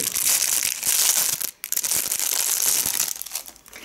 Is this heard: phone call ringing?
no